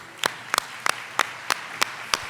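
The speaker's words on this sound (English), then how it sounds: "can we give them a round of applause?" A few people clap at a luncheon, seven distinct, evenly spaced claps, close and fairly crisp, rather than a full crowd's applause.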